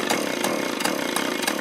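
A small leaf blower or trimmer engine on half choke sputters close by, with a rough buzzing drone broken by regular pulses about three times a second.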